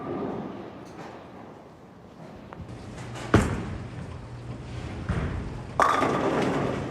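A Motiv Trident Horizon bowling ball rolls down the lane with a quiet rumble, then strikes the pins with a sharp crash, followed by a second clatter as pins scatter.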